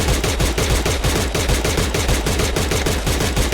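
Rapid automatic gunfire from the Free Fire mobile battle royale game, loud and close, firing in a steady unbroken stream of sharp repeated shots with no talking.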